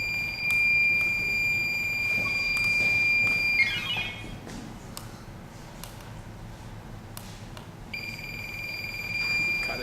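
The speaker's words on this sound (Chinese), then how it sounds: "所以就现在就直接开始在那边叫闹钟" An electronic alarm clock built as a microprocessor student project buzzes with a steady, piercing high beep. The beep drops out for several seconds midway, then resumes, over a low room hum.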